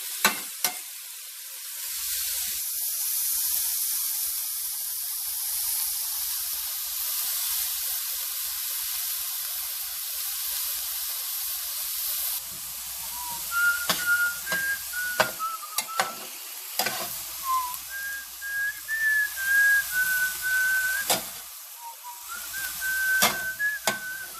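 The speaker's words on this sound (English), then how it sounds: "we're going to throw our meat back in along with some barbecue sauce and spices" Meat sizzling in a pan with barbecue sauce and spices, a loud, steady hiss that runs throughout, broken later by clacks of stirring and scraping and a bird chirping in the background.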